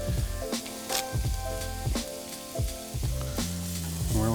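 Celery and onions hit hot canola oil in a pan and crackle, with a steady sizzle broken by regular clunks of stirring and scraping, close up and with no talking.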